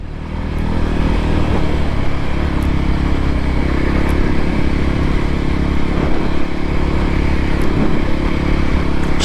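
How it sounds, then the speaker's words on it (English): A Voge 300 Rally motorcycle with a 15-tooth front sprocket pulls up a gentle slope in second gear, its engine droning loud and steady close by under throttle, with wind rush and faint clatter. "That's in second gear, and I'm going up a, it's not steep but a gentle slope. Put the power on, picks up."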